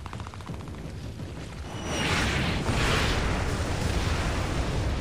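Katyusha rocket fire in the Splinter Cell Blacklist video game: a dense, continuous roar of explosive rumble builds and swells midway, sustained and loud with no voices.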